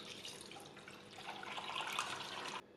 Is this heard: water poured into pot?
yes